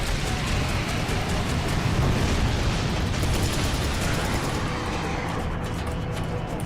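A loud, sustained rumbling blast from the Serious Sam 3 video game fills the whole stretch, a dense roaring explosion that slowly tapers off without any break.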